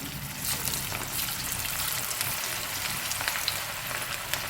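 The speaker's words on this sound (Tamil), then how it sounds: "எண்ணெய் காஞ்சிருச்சு பக்கோடா எடுத்து போட்டுக்கலாம் இப்படி கையில் எடுத்துக்கிட்டு கொஞ்சம் கொஞ்சமாக போடுங்க" Onion pakoda batter frying in hot groundnut oil, a steady bright sizzle with fine bubbling crackles throughout, moderately close and without talk.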